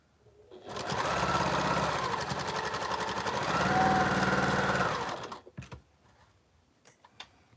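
A sewing machine stitches quilt fabric in a close, steady burst of rapid mechanical clatter lasting several seconds, then stops, leaving a few light handling clicks and rustles.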